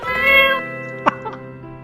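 A pet cat named Pinky in the video game My Time at Portia gives a single short meow over soft, sustained game music tones, followed by a fainter little chirp.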